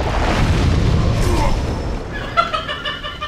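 A video game explosion makes a low, rumbling boom that fills the first half and then fades, followed by lighter tonal game effects. It is loud and close.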